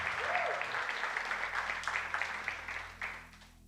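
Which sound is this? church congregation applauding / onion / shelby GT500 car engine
church congregation applauding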